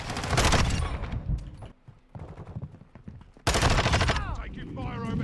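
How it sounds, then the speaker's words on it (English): Call of Duty gunfire in a hardpoint match, with loud bursts of automatic fire at the start and again in the second half, quieter shots between them, and a player's voice talking over the action. "Taking fire over here."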